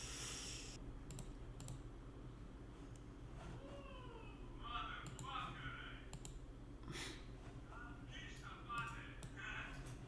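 Fingers type on a computer keyboard in quick, faint bursts of clicks, quiet and close, with a few soft rustles and small mouse-like taps between keystrokes.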